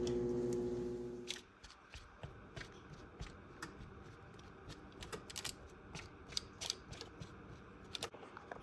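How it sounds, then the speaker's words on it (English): A fork pokes holes into a pizza dough crust for copycat Little Caesars cheese bread, making a run of light, irregular taps and pricks that follow a louder start. "we're just going to take a fork and go around and poke holes into the"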